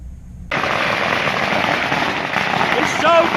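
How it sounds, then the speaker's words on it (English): Loud firecrackers set off in a town square in Antigua during New Year celebrations, an abrupt onset of dense continuous crackling and popping that stays loud and close to the end. "letting off these firecrackers"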